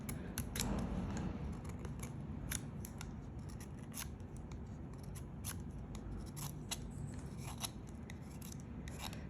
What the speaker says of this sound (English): I will actually take the wood casing off my pencil about an inch away from